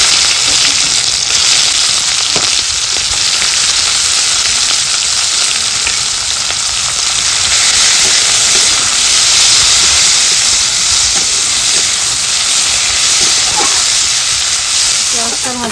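Chopped onions frying in hot oil with cardamom, cloves and bay leaf for a jackfruit curry, a steady loud sizzle and hiss throughout with faint stirring clicks.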